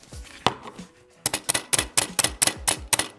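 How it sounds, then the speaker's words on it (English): Spacebar on a cheap membrane gaming keyboard pressed repeatedly, a run of about eight hollow, clacky thumps in a steady rhythm, close and fairly loud after a few quieter scattered taps. "Just listen to the spacebar real quick."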